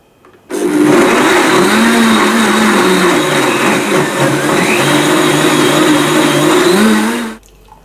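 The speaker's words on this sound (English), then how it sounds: "Just blend this on high for 20 to 30 seconds" A blender whirs on high through a strawberry cheesecake smoothie with biscuit, a loud, steady motor roar that starts abruptly, wavers slightly in pitch as the contents churn, and stops after about seven seconds.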